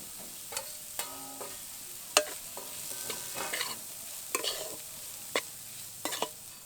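Khoya kheer is stirred in ghee with fried cashews, giving a faint low sizzle broken by repeated crisp taps and scrapes of a spoon on the pan.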